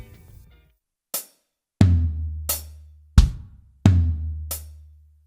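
Drum fill played with crossed hands on hi-hat and floor tom alongside bass drum: sharp hi-hat ticks alternating with deep booming floor tom and kick hits in a sparse, spaced pattern, close and loud with no talking.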